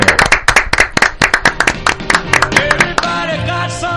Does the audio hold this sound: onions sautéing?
no